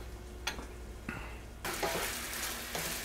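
Sliced prosciutto sautéing in a pan for a pork ragu, with a soft sizzle that suddenly grows into a loud, steady frying hiss, broken by a few light clinks of a utensil stirring against the pan.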